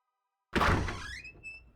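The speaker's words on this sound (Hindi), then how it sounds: "जा दरवाजा खोल" A door opens with a single sharp thunk after silence, followed by a short squeaky ringing tail as it swings, close and fairly loud.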